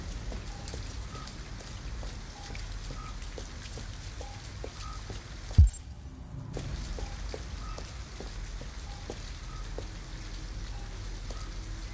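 Steady rain pours down in the video game Detroit: Become Human, a constant wash of dense patter filling the scene, briefly broken by a single sharp thud before the downpour continues unchanged.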